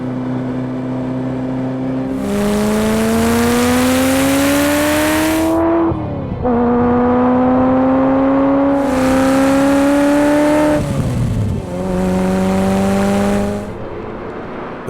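A 1989 Ferrari F40 twin-turbo engine revs up hard through three long climbing pulls, loud and close inside the cabin, with turbo whoosh and brief dips between shifts.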